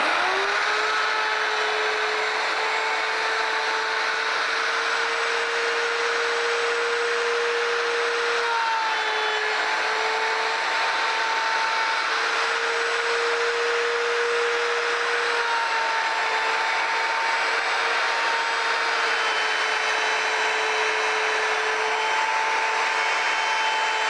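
A router-style cutter mills a mortise in a wooden guitar neck held in a neck angle jig, a loud sustained whine and roar close by. Its pitch shifts slightly between passes and no one talks.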